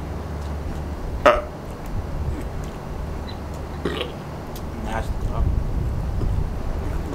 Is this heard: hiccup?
yes